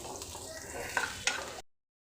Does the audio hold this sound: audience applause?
no